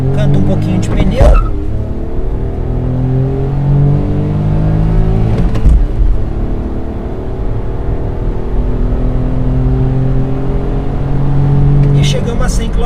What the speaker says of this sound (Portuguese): Vou aproveitar aqui para fazer nossa aceleração de 0 a 100.